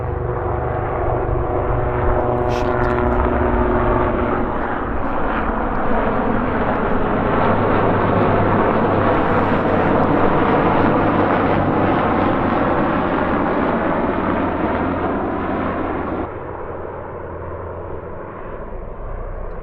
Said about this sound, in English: those are Apache helicopters, so that was pretty sweet